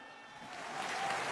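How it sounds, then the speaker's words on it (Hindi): Faint, distant applause from a crowd at a mini stadium rally, a soft wash of clapping that swells gradually over a second or so, with no voices above it. "मुझे ज्यादा तालियों की उम्मीद थी"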